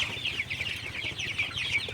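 Sonali chickens in a poultry shed cluck steadily in a dense, continuous chorus of overlapping calls, moderately near, with no voices.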